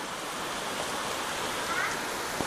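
Floodwater runs down a cobbled street during heavy rain in Além Paraíba, making a steady broadband rush that holds at an even level throughout, with no voices.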